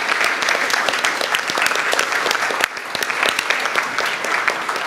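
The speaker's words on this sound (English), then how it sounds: "I'd like a round of applause for all of our participants" Audience applause for participants at an academic book launch on music in the Indonesian archipelago, dense steady clapping from a room of people throughout, with no talk.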